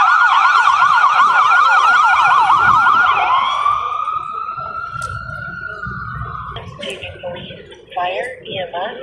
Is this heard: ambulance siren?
yes